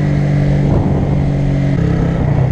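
A 2016 Honda CBR125R with a 125 cc four-stroke single accelerates on the road, its engine drone loud and steady against heavy wind rush, with a short shift-like dip partway through.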